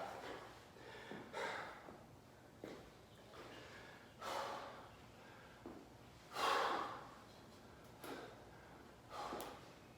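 Heavy, rhythmic breathing of a person catching breath after a workout: close, audible gasps and exhales every second or so, some sharper and louder, over quiet background.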